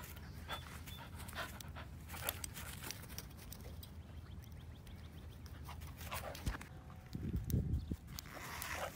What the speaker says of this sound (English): Here's a dog that only has two legs but doesn't seem too bothered about it.